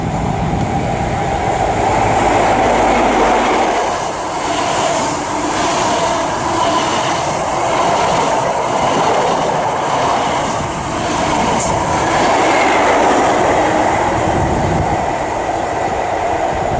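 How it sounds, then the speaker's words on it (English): An HST high-speed train running from London Paddington to Swansea passes along the South Wales Main Line at Patchway in the late evening, a loud steady rushing rumble with rail noise that holds for the whole stretch and never stops. "about to pass through now is going to be HSC from London Paddington to Swansea"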